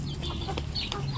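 Hens cluck softly in a short burst during feeding, a few low, muffled calls close by with a steady background murmur.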